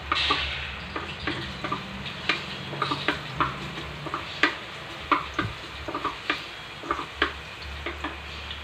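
Garlic browns in a little oil in a pan, a soft steady sizzle under repeated sharp clicks and taps of a utensil against the pan, coming in an uneven rhythm about every half second.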